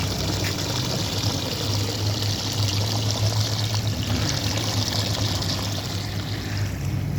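The drain pump of a top-load washing machine, running at the start of the spin cycle, pushes water out with a steady gushing pour and a low continuous hum, close and constant throughout.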